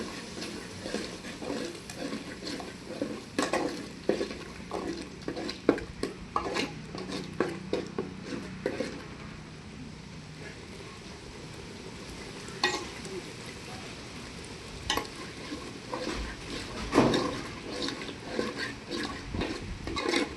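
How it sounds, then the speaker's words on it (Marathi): Mutton frying in a pan as coriander and ginger-garlic paste are stirred in, with steady close sizzling, scraping and clinking of a utensil against the pan, and intermittent louder knocks. "आता मी यात कोथिंबीर, अद्रक लसूणचं पेस्ट घालते."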